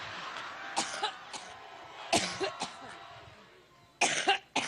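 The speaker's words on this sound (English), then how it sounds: "her inaugural ride on Hill Force One interrupted by a coughing fit" A woman has a coughing fit, with harsh, close coughs coming in separate clusters and short pauses between them.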